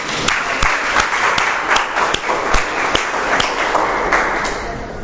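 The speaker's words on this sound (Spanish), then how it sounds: "Un aplauso a la palabra del Señor." An audience at a Catholic Gospel of Luke workshop breaks into applause, a steady, fairly loud patter of many hands with a few sharper individual claps standing out, continuing evenly from start to finish.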